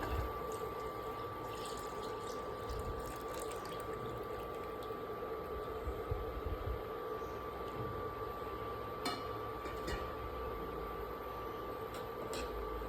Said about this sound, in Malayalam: നമുക്ക് ഒരു തേങ്ങ അരച്ച് പിഴിഞ്ഞ് വെച്ച തേങ്ങാപ്പാൽ ഇതിലോട്ടേക്ക് ഒഴിക്കാം